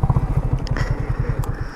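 A motorcycle engine idles with a steady, rapid low thumping pulse, close and fairly loud, with a few faint clicks on top.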